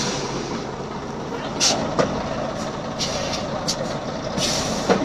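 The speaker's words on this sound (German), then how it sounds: "Jetzt kommt ein großer Bus." A large bus rolls past on a street in the Ahr valley, with a broad, steady engine and road rumble, brief hissing bursts and occasional clanks. People talk nearby throughout.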